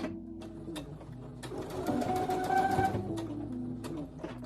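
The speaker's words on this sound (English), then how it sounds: "Right now I'm going to back stitch at the end of my straight stitch." A sewing machine back stitches at the end of a straight seam, a close, steady mechanical whirr that briefly speeds up mid-run, then slows, with no talking.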